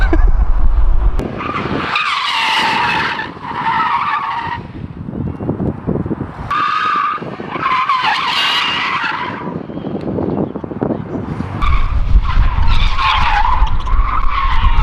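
A drift car on a track skids and squeals through a spinning 360-degree entry, its tires screeching loudly in repeated bursts over the engine roar, close and sustained throughout.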